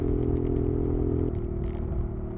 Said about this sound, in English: Bike's not running properly.